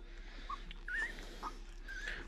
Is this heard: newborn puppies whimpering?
yes